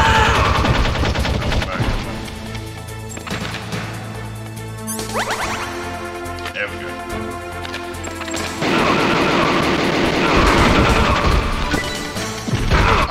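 Gunfire in Metal Gear Solid: loud, rapid bursts of game shots and crashing impacts, dense at the start, thinning through the middle, then surging into a heavy sustained volley near the end.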